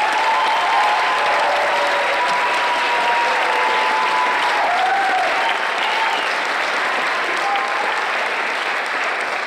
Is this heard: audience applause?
yes